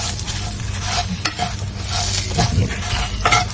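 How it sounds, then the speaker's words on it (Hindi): Salted masala being stir-fried for a spicy yogurt chili dish, a steady close sizzle with scraping stirs and spoon knocks throughout, no talking. "तो अब इसको अच्छे से भून लेंगे"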